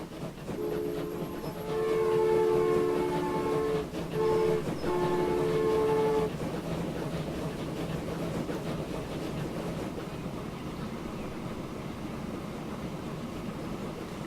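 Train in the Transport Fever video game, running with a continuous rolling rumble and a few sustained horn tones early on, steady and moderately loud with no talking.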